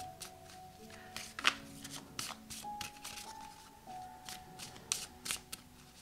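A deck of oracle cards is shuffled by hand, with quiet papery riffles and soft taps coming in irregular bursts, close and faint, while a low steady musical drone plays beneath.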